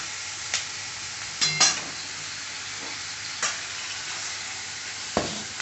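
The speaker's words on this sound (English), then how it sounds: "You stir fry the onions till they are" Onions stir-fried in a pan: a steady, even sizzle with a few sharp clicks and scrapes of a utensil against the pan spaced through it.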